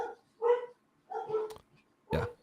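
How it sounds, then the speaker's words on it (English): A dog barks in the background during a livestream chat, three separate yelping barks spaced about a second apart, fairly faint and distant with silence between them. "Is that your dog barking in the background, Hawk?"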